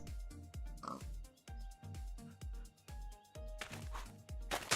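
Rhythmic pig grunts from a modded Minecraft 1.12.2 game, a steady series of short oinks repeating about twice a second, fairly close and clear, with quiet background tones.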